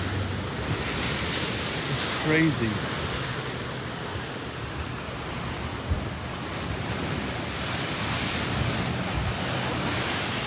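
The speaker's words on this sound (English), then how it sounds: "It's surge, ocean surge back in." Ocean surge from the Tonga tsunami at Pleasure Point, Santa Cruz, rushing back in as a loud, continuous wash of surf with wind buffeting the microphone; someone briefly speaks over it.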